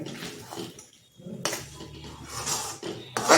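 A spoon scrapes and clinks against a metal pot while thickening rice mixture for traditional rice halu bai is stirred, in close, uneven bursts separated by short pauses, with a voice talking over it.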